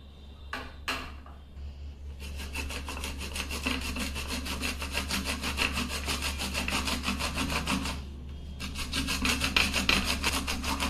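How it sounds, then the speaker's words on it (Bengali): Fresh ginger is rubbed against a grater in steady, rapid rasping strokes. The close, loud scraping runs in long bursts with brief pauses between them. "এখানে আদাটা গ্রেট করে নিলাম"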